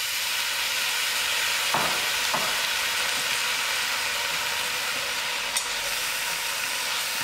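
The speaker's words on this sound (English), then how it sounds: "I stir it all together." Potatoes and other ingredients are stirred in a cooking pot of chunky butternut soup, a constant hiss and sizzle with a few faint scraping clicks of the spoon, close and steady.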